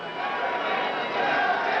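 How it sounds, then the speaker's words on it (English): Crowd at a Larry Holmes vs Trevor Berbick boxing match in 1981 roars in a continuous, dense wash of cheering that swells slightly toward the end. "And listen to the crowd."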